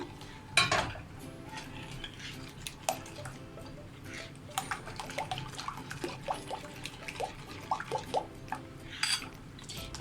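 Kalathappam batter of rice flour mixed with jaggery is stirred in a bowl, giving soft, irregular scraping and liquid sloshing strokes at close range, with occasional utensil clinks and no talk.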